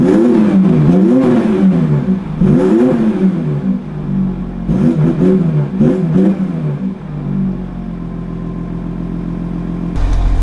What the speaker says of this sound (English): the turbo you can definitely hear